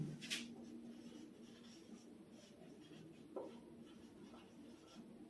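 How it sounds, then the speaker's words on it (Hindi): Faint scratchy strokes of writing on a board, quiet and close, with a soft steady background hum. "चलिए डायरेक्ट में लिखते हैं उसको।"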